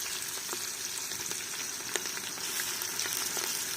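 Ginger garlic paste sizzles and spits steadily in hot oil while being sautéed for quail biryani with curry leaves, with a few sharp crackles above the constant frying hiss.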